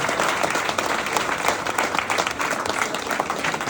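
Crowd applause for a trial rider with 37 world championship titles at an indoor trial event in Narbonne, a dense, loud, continuous clapping that carries throughout without any voice on top.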